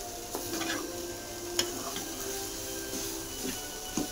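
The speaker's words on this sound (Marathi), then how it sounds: "सुकट चांगली परतून घेऊ" Dried shrimp (sukat) being stir-fried in a pan until crisp, with a soft steady sizzle under scattered scraping and tapping of a spatula, a few sharper clicks standing out.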